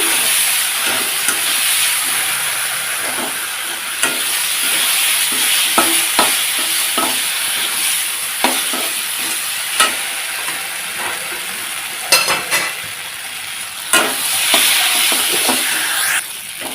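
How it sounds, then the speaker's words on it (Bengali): Ground spices, including Kashmiri chili powder, sizzle and fry in oil in a pan for a lentil dal curry, with a steady hiss and repeated clinks and scrapes of stirring. "মশলাটা দিয়ে আমি খুব সুন্দর কষিয়ে নিচ্ছি"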